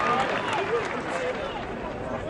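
A Gaelic football crowd roars during a National Football League match after Cooper puts the ball over the bar, a broad distant cheer that runs continuously under a commentator's voice.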